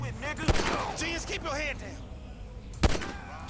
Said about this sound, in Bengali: মারছি এই যে হেডশট যাক ছয়টা হেডশট হয়েছে সাতটা হয়েছে